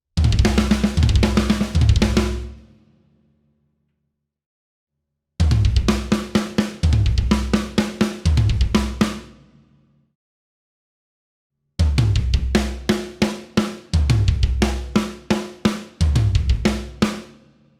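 A rock drum fill phrased across toms, snare and kick drum, played loud and close in three separate bursts of rapid, accented hits, each ringing out into a short silence before the next phrase starts.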